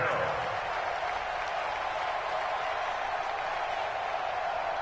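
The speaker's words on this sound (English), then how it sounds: "Here comes a big one as this crowd gets up making some noise." A football stadium crowd at a Vikings–Eagles night game roars in a dense, steady wash of cheering and clapping that holds loud and even throughout, with a commentator talking over it.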